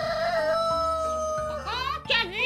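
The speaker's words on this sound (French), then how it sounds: "le coq arrive." A cartoon rooster crows in a children's fable, a rising, strained call near the end that rides over steady background music and narration.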